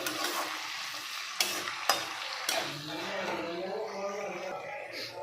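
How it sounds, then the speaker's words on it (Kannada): Onion and chopped tomato frying in a pan for lemon rice, a close sizzle with three sharp clacks of a spoon against the pan early on, then a softer sizzle as stirring continues and a voice talks faintly underneath. "ಟೊಮೆಟೊ ಸಾಫ್ಟ್ ಆಗೋವರೆಗೂ ಚೆನ್ನಾಗಿ ಬೇಯಿಸ್ಕೋಬೇಕು"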